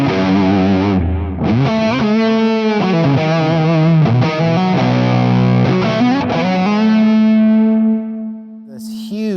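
Electric guitar played through a Stiletto amp's tight clean channel with a tube driver overdrive, giving a loud, distorted sustained lead line with bending notes that rings out and fades.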